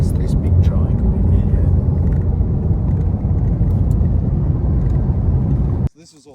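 A water truck drives across a levelled dairy paddock, a loud steady engine rumble that cuts off abruptly near the end, with people talking over it.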